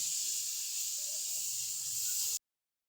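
Ginger garlic paste frying with chicken in a hot pan gives a steady, bright sizzling hiss, even and close, that cuts off abruptly near the end.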